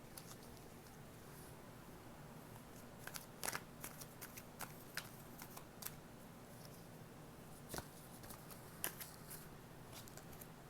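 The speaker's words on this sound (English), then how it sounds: "Cards are just flying." Tarot cards shuffled by hand in a quiet room, a faint papery riffle with scattered sharp snaps and flicks of cards landing at irregular intervals.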